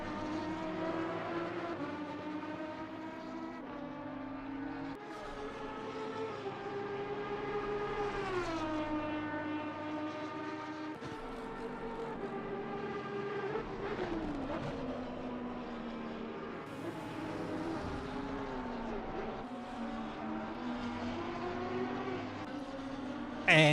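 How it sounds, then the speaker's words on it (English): An Aston Martin V12 engine in a racing video game, during a multiclass endurance race at the Nurburgring, revs up and down in smooth, rising and falling tones through gear changes, a steady, continuous engine note. "the V12 also sounds amazing in the Aston Martin variety."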